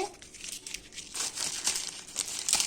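Foil football trading card pack being torn and crinkled open by hand, a brief close, bright crackling rustle with no talk.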